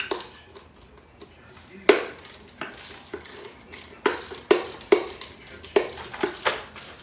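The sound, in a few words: removing engine bolts from 87 McLaren Mustang engine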